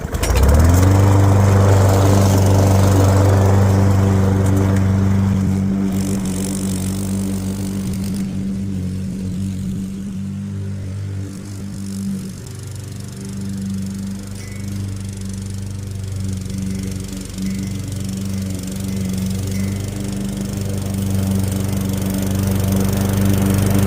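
Toro GTS 140cc push lawn mower running with its blade off center and striking the housing, a loud steady engine drone with strong low hum that dips mid-clip, plus faint repeated metallic chinging.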